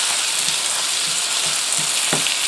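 Onion and garlic fry in a pan while eggs with chiles and tomatoes are prepared. A loud, constant close sizzle runs throughout, with soft stirring scrapes every half second or so.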